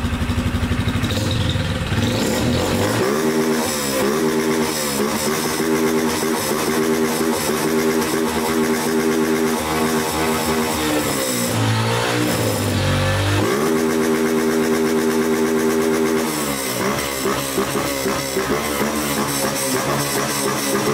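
A Honda CG 160 Start motorcycle fitted with a new exhaust revs loudly and steadily, its engine note climbing and dropping in repeated surges, with a brief dip near the middle before picking back up.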